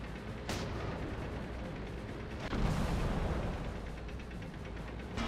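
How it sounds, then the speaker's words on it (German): A tank's track takes a hit in the World of Tanks video game. Heavy, booming artillery-like impacts land over a continuous engine rumble, with a sharp strike early and a larger blast midway. "Eine unserer Ketten wurde getroffen."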